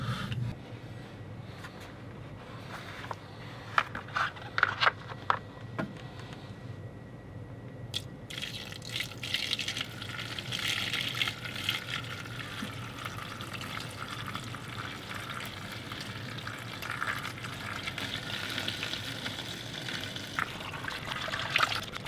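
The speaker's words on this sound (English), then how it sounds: "until we get this filled up with dechlorinated water, which I think we better do next" Dechlorinated water filling a desk aquarium tank, a soft continuous trickling and pouring with faint splashes and dribbles, quiet and steady throughout, no voices.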